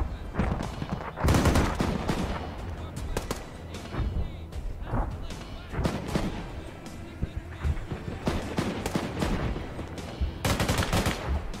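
Gunfire in the video game Arma 3 rings out in heavy volleys: sharp, loud shots and rattling bursts mixed with booming reports come in clusters, with a few quieter gaps between the barrages.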